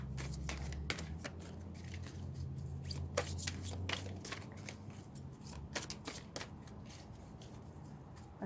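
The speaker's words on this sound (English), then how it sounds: "It's too big for me to shuffle normally" A large tarot deck is shuffled by hand, giving a steady run of soft riffling and sharp card slaps at close range, fairly quiet, with a faint low hum underneath and no talking.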